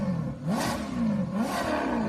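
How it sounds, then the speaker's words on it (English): Loud racing engines from a video game race, two rising revving sweeps about a second apart, each swelling and fading like cars roaring past, with no talking. "them engines got extra loud"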